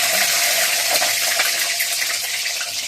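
Okra (bhindi) with the tips cut, just dropped into hot oil, giving a brief, close, bright sizzling rush with watery crackle throughout, no voices.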